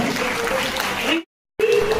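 Applause from a school-complex gathering audience, a steady dense patter running about a second, cutting to silence, then resuming briefly.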